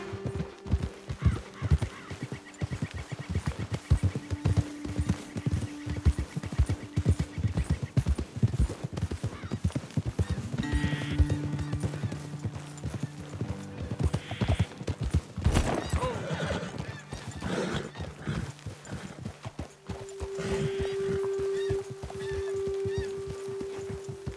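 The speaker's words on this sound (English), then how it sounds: "Let's dismount here. Best leave the horses back a bit." Horse hooves clip-clopping along a trail in Red Dead Redemption 2, a brisk steady rhythm of several horses with occasional neighs and whinnies, game music and distant ambience underneath.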